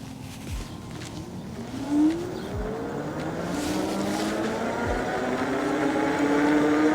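Senada Herald Pro electric bike accelerating uphill on throttle alone: a steady motor whine rises in pitch and builds gradually over rushing wind noise, with a few soft low thumps early on.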